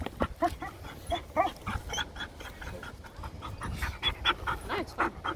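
A dog pants steadily and rhythmically at close range during a training session, with quick breathy puffs and a few light vocal sounds, otherwise quiet.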